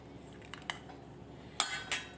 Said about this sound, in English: I'm going to go ahead and pull this avocado out by tracing the bottom of the bowl.